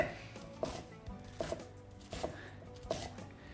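A knife chops vegetables on a cutting board in a home kitchen, producing a steady series of close, crisp taps at an even, unhurried rhythm.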